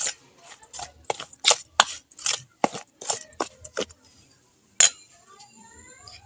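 Pitha batter ingredients with sugar being stirred in a bowl, a rapid series of sharp clinking and scraping strikes of a utensil against the bowl, then a brief pause and one last clink.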